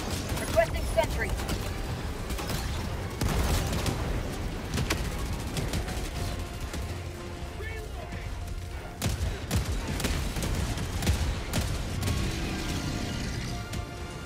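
A sentry cannon fires in the video game Helldivers 2, with repeated bursts of heavy gunfire and crashing impacts over ongoing battle noise.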